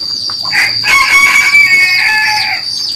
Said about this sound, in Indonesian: Ayam jago berkokok.